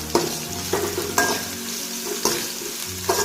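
Ingredients being roasted with salt in a pan for a rice dish, with rhythmic spoon scrapes and stirring knocks about every second over a continuous sizzle, close and without talk.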